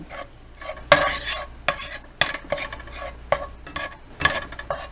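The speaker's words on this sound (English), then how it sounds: "get your pan good and hot. Dump you some of your butter or margarine in there and let it melt" Butter melting in a hot skillet for fried pies gives a soft sizzle beneath repeated scraping strokes of a utensil stirring across the pan, close and moderately loud, with no talking.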